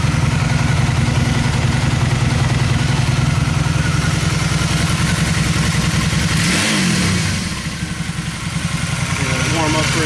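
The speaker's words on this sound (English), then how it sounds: "Let me roll this out of the garage so we can hear it running." A 2002 Honda Magna motorcycle engine runs close by with a steady, loud, throbbing idle, easing off slightly near the end.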